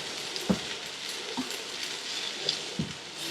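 A paratha frying in butter in a pan, giving a gentle continuous sizzle with a few soft dabbing taps spaced through it.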